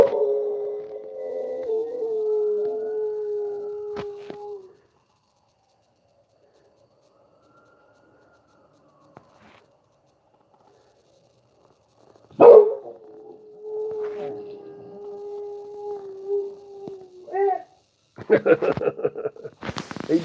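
A dog named Stretchy howls along with passing emergency sirens near a house, two long wavering howls separated by a quiet gap, ending in a burst of noisier barking and voices.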